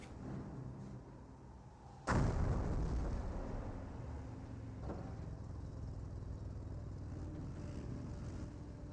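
Mortar shells strike the ground in the World War II strategy game Company of Heroes. A single heavy, booming impact is followed by a lingering rumble and a fainter second hit, all set against steady battlefield background noise.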